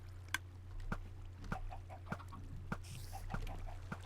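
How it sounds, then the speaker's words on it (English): Minecraft chickens cluck in short, repeated calls at a fairly regular pace over a low steady game hum, with sharp little clicks marking each sound. "I don't know if I got any more chickens"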